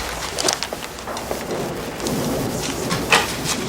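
Steady rain pours outside during a storm, with low rumbles of thunder rolling underneath and a few louder gusts and splashes swelling through, continuous and fairly close, with no voices.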